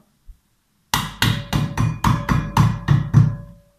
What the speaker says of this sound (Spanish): Y con la ayuda de nuestro martillo de goma,